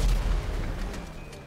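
Grenade explosion in GTA 5, a heavy low boom at the start that rumbles and fades over a second.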